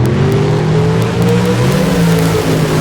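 Drag racing car at a Spring Fling Million race running steadily on the throttle, a loud continuous engine roar with a slightly shifting pitch, no speech.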